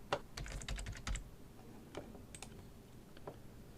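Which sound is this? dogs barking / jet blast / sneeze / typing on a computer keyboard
typing on a computer keyboard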